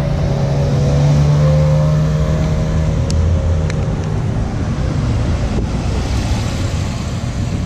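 A red Ferrari 458 pulls away from a cars and coffee meet in Columbus, and its engine note stays loud and sustained over heavy wind buffeting on the microphone.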